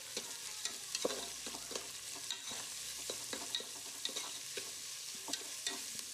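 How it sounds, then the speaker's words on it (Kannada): Onion fries in a hot pan while being stirred: a steady sizzle runs throughout, with frequent scraping and clicking stirs at an irregular rhythm, close by and with no talking. "ಈಗ ಇದನ್ನ ಚೆನ್ನಾಗಿ ಫ್ರೈ ಮಾಡ್ಕೋಬೇಕು."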